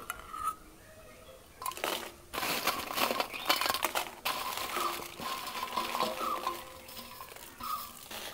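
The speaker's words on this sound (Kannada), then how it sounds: "ಫಸ್ಟ್ ಎಣ್ಣೆ ಹಾಕಿ ಚೆನ್ನಾಗಿ ಈ ಬ್ಯಾಡಿಗೆ ಮೆಣಸನ್ನು ಹುರಿಯುವ" Dry Byadgi chillies roasting in a little oil for Udupi-style sambar powder, tossed and scraped with two ladles, give a steady dry rustling, crackling sizzle with stirring scrapes throughout, close and fairly loud, with no talking.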